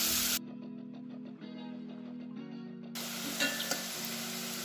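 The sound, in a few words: chopped onions frying with cumin in a pan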